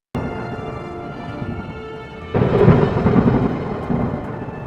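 Heavy rain pours steadily over a village while thunder rumbles, the storm swelling louder partway through and continuing as a dense, close wash of sound with no voices.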